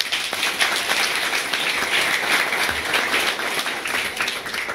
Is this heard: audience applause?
yes